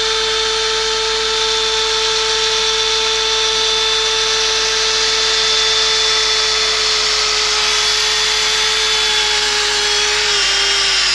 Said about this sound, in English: When I drill into this, it's so soft the drill falls in.